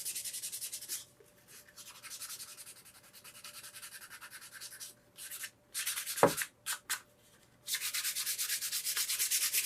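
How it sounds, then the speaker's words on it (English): Steady scratchy rubbing of 320-grit sandpaper on a Les Paul guitar's paint finish, stroke after stroke, close up, with a few short pauses and one sharp knock partway through. "some 320, and I'm just sanding out all the runs and the bad spots"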